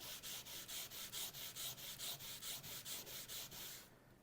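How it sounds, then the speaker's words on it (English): The sole of a Stanley-made Wards Master block plane is rubbed back and forth on Scotch-Brite under pressure, a quiet, even run of about fourteen rhythmic abrasive scrubbing strokes that stops abruptly. "So all I'm going to do is put it on the Scotch-Brite and then just run it back and forth, applying pressure."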